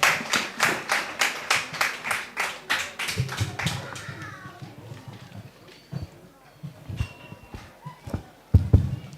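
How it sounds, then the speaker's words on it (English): Applause at a 2025 secondary school graduation ceremony in Carriacou: a loud burst of clapping for the first four seconds, fading into scattered claps, murmuring and room noise. "Please give them a round of applause"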